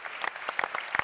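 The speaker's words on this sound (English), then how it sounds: "I think he deserves a round of applause for that." Brief, thin applause from a conference audience at a patient safety congress, a few scattered claps close together over about a second.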